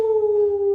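A human voice imitates a dog with one sustained, tonal howl-like cry, loud and close, holding a steady pitch for under a second.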